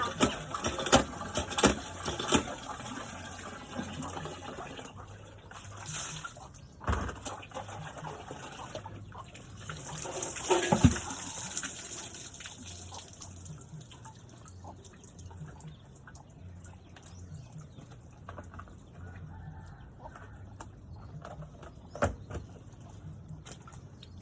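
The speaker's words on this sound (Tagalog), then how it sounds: "Sarap ang maligo dito sa bomba." Water from a hand pump in the countryside splashes and drips during an outdoor bath, with irregular sloshing bursts and a louder pour near the middle, close by over steady background noise.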